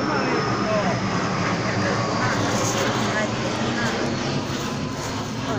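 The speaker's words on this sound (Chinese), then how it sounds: "这飞机的声，飞机经过这个小南海风景区的上空" An airplane passing overhead above the Xiaonanhai scenic area, heard as a steady, loud, broadband engine roar that holds at the same level and eases only slightly toward the end.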